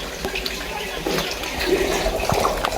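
Water rushes steadily from an underground pipe in a hollow in the ground, a continuous close splashing flow that swells slightly louder toward the end.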